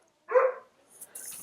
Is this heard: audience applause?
no